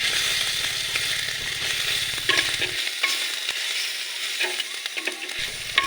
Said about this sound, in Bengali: তারপর দিলাম হলুদ দিয়ে ভালোভাবে নামিয়ে কষিয়ে নেব